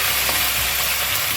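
Chicken pieces frying in a hot pan for adobo, a steady dense sizzle close up with no talk.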